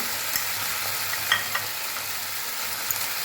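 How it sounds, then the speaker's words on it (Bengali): Lentil fritters go into a pan of papaya curry with a bright, steady sizzle of frying, broken by a few soft stirring knocks and splashes. "এবার আমি ডালের বড়াগুলো দিয়ে দিচ্ছি।"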